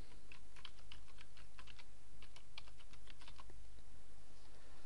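Rapid typing on a computer keyboard, close and clear, a quick run of key taps over steady background hum that trails off near the end.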